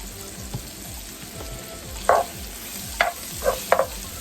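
Vegetables sautéing in a pan with garlic powder give a steady low sizzle, with a few louder clinks and scrapes of stirring near the end.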